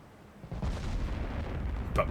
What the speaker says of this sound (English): We never got a chance to use 18-inch guns in the Brazilian campaign.